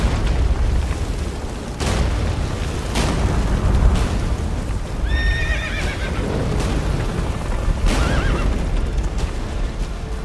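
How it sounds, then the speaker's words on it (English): A horse gallops and neighs in Witcher 3, with loud whinnies over a dense, rumbling battle soundscape of thuds and booms, close and continuous. "Run, Roach"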